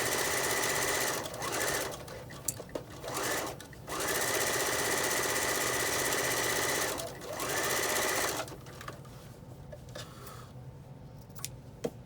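A sewing machine runs in fast, continuous bursts while stitching a fabric face mask with a pocket, a close, loud rattling whir that pauses briefly between seams before stopping, followed by soft handling noises.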